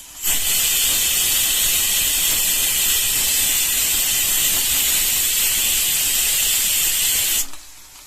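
Pressure cooker whistle venting steam while cooking lentils on a gas stove, a loud, steady hiss lasting about seven seconds before cutting off abruptly.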